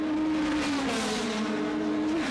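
Touring cars race at Monza in the 1993 FIA Touring Car Challenge, a loud sustained engine drone holding pitch with a slight dip and rise as the pack screams along.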